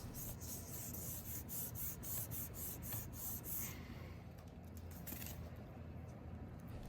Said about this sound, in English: press the paper onto the foam. Use your fingertips and find the edges of the foam. Press and rub on the corners and the edges and the middle